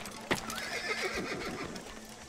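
A horse in the Assassin's Creed video game gives a sharp whinny with a rising, quavering neigh, accompanied by hoof clip-clops, heard close and alone.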